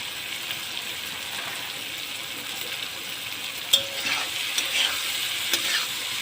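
Spice paste with coriander powder frying in a pan for a fish roe and ridge gourd dish, a steady moderate sizzle with occasional light clinks of a stirring utensil.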